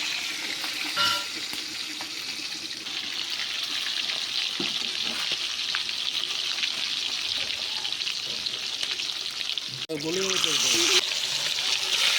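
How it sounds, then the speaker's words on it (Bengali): Chicken pieces frying in hot oil for Kolkata-style biryani, a loud continuous sizzle with bubbling and a stirring clatter near the end, close and dense throughout. "এইভাবেই সব চিকেনগুলোকে এক এক করে ভেজে নিতে হবে।"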